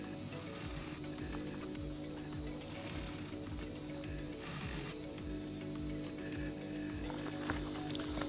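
A sewing machine stitches a clamshell pouch in steady, quick repeating needle strokes, close and fairly quiet, running continuously without pause.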